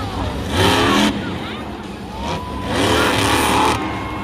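Jimmy Cretin's Bounty Hunter buggy, a monster truck at a Monster Jam show in Denver, roars and revs loudly through a power wheelie, its engine surging and easing in waves amid crowd noise and an announcer's commentary.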